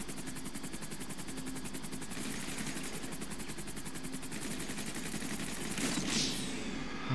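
Gunfire in Grand Theft Auto 5 as a steady rapid rattle of shots runs under a loud rotor-like drone, building slightly toward a louder burst near the end.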